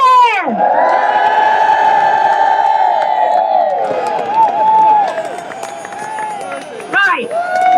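Crowd of protesting farmers at a UK inheritance tax rally cheering and whooping loudly, sustained shouts and whistles filling the whole stretch, with voices calling out on top.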